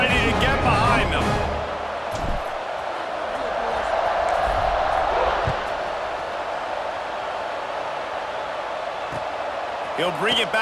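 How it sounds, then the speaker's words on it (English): Crowd at a college football kickoff in a Tennessee versus Georgia game, a broad steady roar filling the stadium with a commentator talking over it and a brief swell at the end. "Set to kick it off, and this crowd now ready to get behind them."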